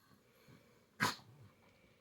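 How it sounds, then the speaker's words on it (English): A single sharp, snorting sneeze from a pug, close up, amid quiet background. "So many sneezes."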